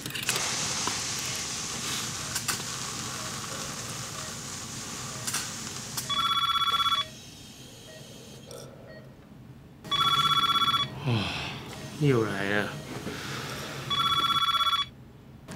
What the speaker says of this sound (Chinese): 这样一直打电话干扰我们工作，到底有什么好处嘞？